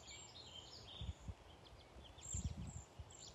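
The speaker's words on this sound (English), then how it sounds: "I hear lots of birds" Birds call and chirp outdoors in a wetland forest, with faint, scattered high tweets over a quiet background and some low rustling bumps.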